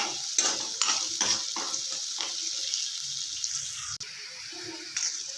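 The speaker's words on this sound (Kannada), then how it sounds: "ಮೀಡಿಯಮ್ ಫ್ಲೇಮ್ನಲ್ಲಿ ಕಡಲೆಬೇಳೆ ಚೆನ್ನಾಗಿ ಒಂದು ಎರಡು ನಿಮಿಷ ಹುರ್ಕೊಳ್ಳೋಣ" Chana dal roasting in a pan over a medium flame, with a steady soft sizzle and a run of quick scraping and rattling stirs early on, close up and with no voices.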